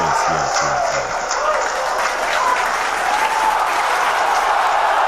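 Loud, dense applause from an audience, continuous and steady for several seconds with no pauses.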